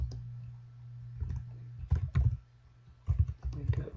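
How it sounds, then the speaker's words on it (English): Quick, soft clicks of typing on a computer keyboard, arriving in short bursts with pauses between, close and fairly quiet over a low steady hum. "So you just keep typing those in."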